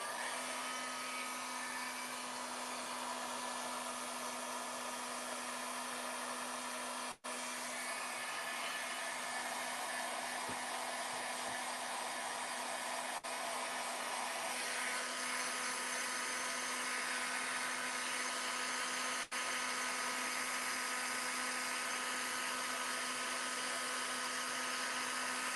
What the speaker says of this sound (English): All right, let me heat this up.